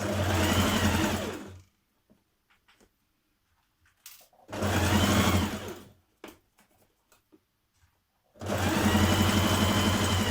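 A sewing machine understitches the armholes of an occasion-wear dress, running in three loud, steady whirring bursts separated by quiet pauses with faint fabric handling.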